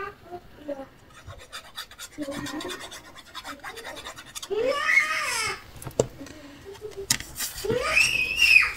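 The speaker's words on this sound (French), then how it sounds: "Je suis désolée pour les cris." A young child screams and cries in the background during a paper-craft session at home, with a babbling lead-in and two loud, piercing bursts toward the end.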